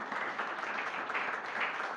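Congregation at a Friday fasting prayer meeting clapping together, a soft, even patter of many hands with gentle swells, somewhat distant and moderately quiet.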